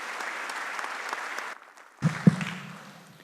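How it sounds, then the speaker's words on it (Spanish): An audience at a public-sector governance congress panel applauds a speaker, steady clapping for about a second and a half that then fades, followed by a few handling thumps and faint room noise. "Un fuerte voto de aplausos para nuestro expositor."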